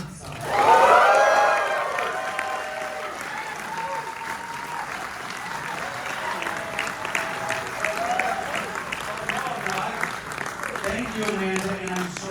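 An audience at a Q&A screening of Never Too Young to Die welcomes Johnny Knoxville with loud, sustained applause and cheering, an early burst of whoops that settles into steady clapping lasting several seconds.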